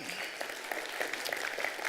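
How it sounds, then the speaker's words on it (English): A small audience of about two dozen people gives a thin, scattered round of applause, light and uneven throughout, with no voices over it. "it was a bit of a wimpier clap because it was only 24"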